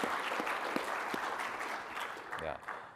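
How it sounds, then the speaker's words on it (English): Audience applause at a Jamf tech conference session, steady broadband clapping from a crowd filling the whole moment, with a voice briefly talking near the end. "can we give a round of applause to Ashley?"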